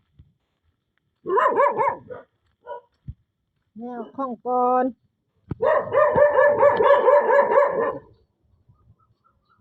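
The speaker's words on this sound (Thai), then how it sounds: "แม่เห่าทำไมเนี่ย" Dog barking in bursts of yips and barks with whimpering tones, near and fairly loud, separated by short pauses, with a person speaking briefly between them.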